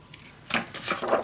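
A single short snip of scissors cutting a piece of scrapbook paper, close and quiet, after a brief silence.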